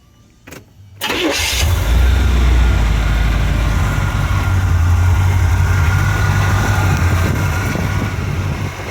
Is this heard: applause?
no